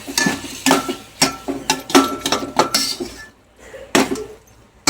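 Kashmiri chilli powder masala being stirred in a pan for chicken biryani, a run of sharp metallic spoon scrapes and clinks against the pan, close and irregular, with a brief pause before a final few strikes.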